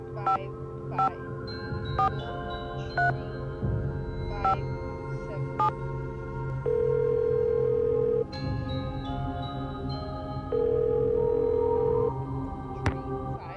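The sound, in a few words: telephone dialing and ringing in Nancy Drew video game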